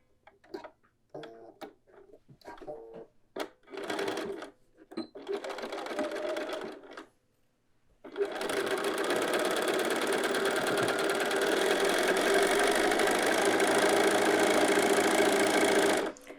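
A sewing machine with an edge stitching foot runs steadily while stitching a dress hem, a loud, close, continuous whirring hum after several short starts and stops of the machine.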